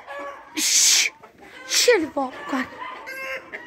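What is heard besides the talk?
roosters fighting and clucking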